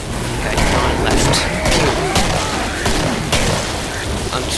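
Rapid gunfire from the video game Killing Floor, a dense run of sharp shots and booms across the whole stretch, loud and close, with a voice talking over parts of it.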